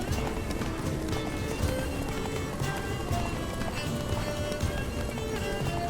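Horse hooves galloping at a steady, rapid pace in The Witcher 3: Blood and Wine, a continuous dense clatter mixed with game music and ambience, fairly loud throughout.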